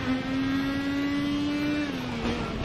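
Race car engine in a racing game at the Daytona road course, a steady loud tone climbing slowly as it powers out of a corner, then dropping briefly as the car eases off.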